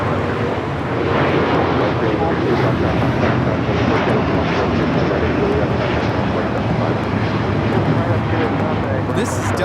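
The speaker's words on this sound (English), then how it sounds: "This is Delta Airlines Flight 39 taking off to Shanghai on the A350-900" A Delta Air Lines Airbus A350-900 takes off from Los Angeles for Shanghai, a broad, rumbling engine roar sustained throughout at constant loudness, with a gusty, wind-buffeted texture and voices beneath it.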